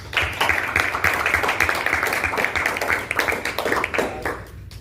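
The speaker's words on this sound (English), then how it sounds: "Congratulations, another round of applause." A graduation audience claps at a ceremony, a steady patter of many hands near and far, with some individual claps standing out for several seconds before fading.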